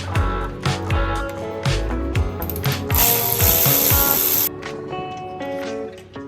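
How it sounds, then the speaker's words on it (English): A hand ratchet backs out an E10 bolt from the thermostat housing of a Mercedes-Benz E55 AMG, with a run of quick, sharp clicking strokes up close, then a short hissing burst, then a few more clicks. "We're gonna be taking out this E10 bolt right here."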